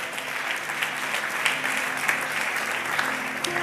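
Congregation clapping steadily in a church worship service, a dense continuous patter of many hands filling the room with no voices over it.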